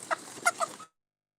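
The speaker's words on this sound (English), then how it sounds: "the chickens annihilate the dandelions" A few soft chicken clucks come close together, faint and brief, then the sound cuts to silence.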